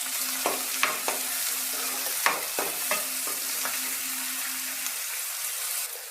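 Chopped onions sizzle steadily in hot oil with mustard seeds, chana dal and urad dal for a bitter gourd and beans palya, with several sharp clinks and scrapes of a stirring spoon against the pan and no talking.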